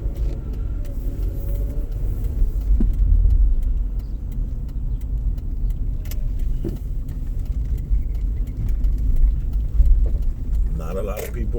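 A car rolls through the streets of Newark, New Jersey, its engine and road noise forming a steady low rumble from inside the cabin, with someone talking over it and faint rattles near the end.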